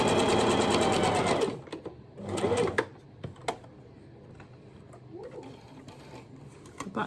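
A sewing machine back-stitches a fabric rabbit ear in a loud close burst of rapid needle clatter, then several shorter bursts and stops follow with quiet handling between them.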